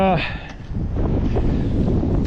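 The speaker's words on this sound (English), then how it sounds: "what a windy day out here on the farm" Strong wind on a farm buffets the microphone in a constant low roar, gusting loud throughout after a brief voice at the start.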